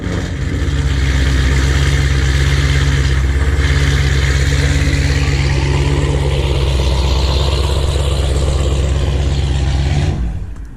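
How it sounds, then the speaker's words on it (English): Startup and steady idle of a Dodge Scat Pack with long tube headers: a loud, deep, throbbing V8 rumble that holds continuously near the mic for about ten seconds, then cuts off abruptly. "I'll show you guys the startups."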